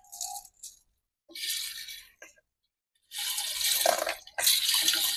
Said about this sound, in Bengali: এবার আমি এই চালটা জলের মধ্যে ফেলে দেবো।